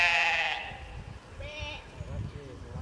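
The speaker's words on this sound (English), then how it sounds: "So the reason the goat is bleeping because there's a tiny baby one." A mother goat calls out for her tiny kid on a hillside at Cheddar Gorge, one loud close bleat followed by fainter bleats, with people talking quietly underneath.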